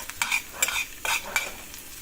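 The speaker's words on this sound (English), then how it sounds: "stir fry some vegetables. Put the garlic in." Vegetables and garlic sizzle in a pan during stir frying, with repeated bursts of stirring and scraping over a low background hum from an air heater, close and moderately loud.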